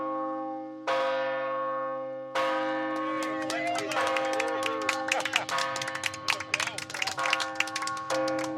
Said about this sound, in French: Quand le président et le donateur vont sonner la cloche, il faut que ça sonne nickel.